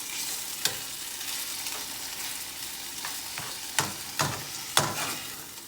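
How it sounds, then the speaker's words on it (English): Chilli chicken with tomato and onion being stirred in a frying pan, a steady sizzle underneath with a few sharp spoon-against-pan scrapes near the end, close up and with no talking. "Give it a good old mix up."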